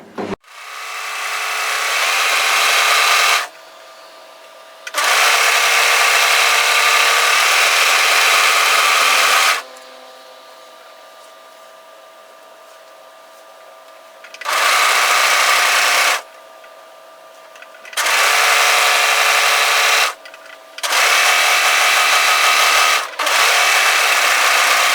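An overlocker sews along the edge of a fabric top piece, leaving notches untrimmed, in loud bursts of rapid whirring stitching separated by short pauses of quieter motor hum, with no talking.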